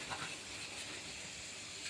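Chanachur, a spiced snack mix, fries in hot oil with a steady, close hissing sizzle that holds evenly throughout, with no voices.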